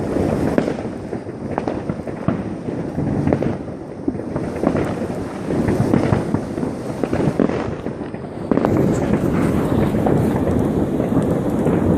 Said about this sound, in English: Norwegians go nuts when it comes to fireworks.